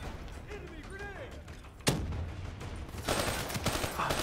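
Gunfire crackles in Call of Duty Black Ops 3 combat, a sharp loud shot followed by a rising clatter of distant bursts, mixed with other game sounds and brief voice-like tones early on.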